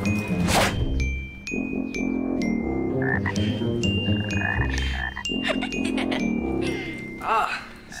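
Pet frogs croak loudly and close by in repeated rough bursts, with a thin ringing tone running underneath and people talking over them at times.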